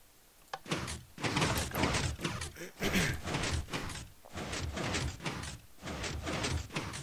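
Minecraft doors on a redstone elevator open and close over and over, a run of roughly eight loud, close, knocking thuds in quick succession.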